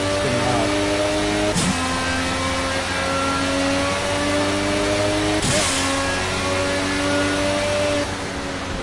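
A loud racing car engine in Project CARS on PS4 whines and revs steadily, pitch climbing then dropping sharply at two gear shifts, with a voice talking underneath.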